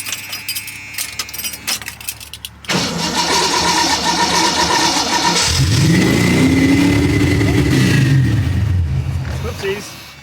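An EFI-swapped AMC AMX engine cranks for a few seconds, catches, and revs with rising and falling pitch, close and loud. Rattling and a brief voice come before it.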